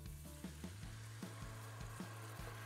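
Dry Italian white wine, half a cup, hits risotto rice in a hot pan and sizzles quietly and steadily, with soft repeated scraping knocks as the rice is stirred.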